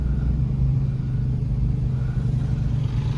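A car labors up a steep hillside road among the Panyaweuyan rice terraces in Majalengka, its engine giving a steady, loud low rumble close by with no break for the whole stretch.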